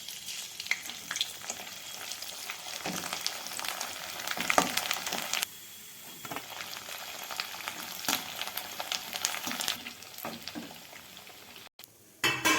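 Avalakki (flattened rice) sticks deep-fry in hot oil, giving a dense, continuous close crackle and bubbling with brief lulls and a few sharper pops and knocks, no voices.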